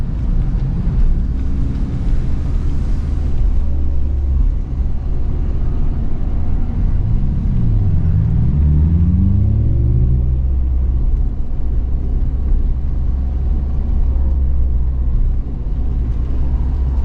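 A Honda Civic Type R FL5 running a COBB Accessport 93-octane tune on a race track, engine droning loudly inside the cabin with rising and falling pitch through gear changes, heavy rumble and wind noise throughout.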